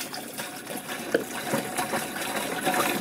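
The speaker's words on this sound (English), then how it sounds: "take yourself a gallon of water and pour it" A gallon of water pours into the tank of a pest control sprayer unit, a soft steady trickling and splashing that runs quietly throughout with small gurgles.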